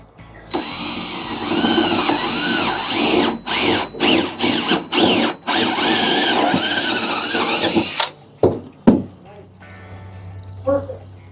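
Power drill boring a mounting hole through a truck bed for a tank, running in several long steady bursts with short pauses, then quick stop-start pulses near the end, loud and close.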